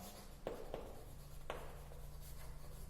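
Chalk or marker scratching on a board during an optics lesson, several short separate strokes with pauses between them, close and fairly quiet over a steady low room hum.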